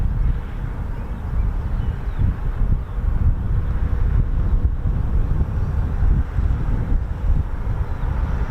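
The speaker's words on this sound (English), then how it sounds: "It is a little bit breezy again as normal. Don't know when it will stop being windy" Steady wind buffeting a microphone at RAF Mildenhall airfield, a continuous low rumbling roar with gusty fluctuations and no voices.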